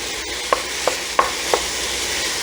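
Ground beef browns in a hot pan with a steady sizzle, broken by four distinct scraping stirs or taps spaced through the few seconds.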